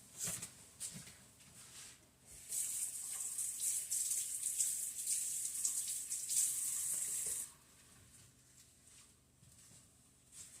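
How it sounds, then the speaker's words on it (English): Water runs from a kitchen tap for about five seconds as hands are rinsed, a steady hiss that starts and stops abruptly, fairly quiet and alone. "Now I just got to go rinse my hands."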